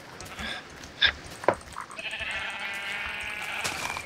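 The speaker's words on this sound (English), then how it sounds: "I can hear another sheep somewhere" Sheep bleating in the modded Minecraft pack Tekkit: two short, sharp bleats close together, then a longer tonal game sound over quiet background, with no talking.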